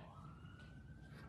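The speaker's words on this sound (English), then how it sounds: "And there goes the siren." An emergency siren sounds faint and distant, a thin, steady wailing tone held for a brief moment over low background rumble.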